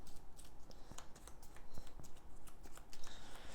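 Conan Monolith board game cards being shuffled close up, a steady rustling patter of riffles and soft slaps running throughout with no talking.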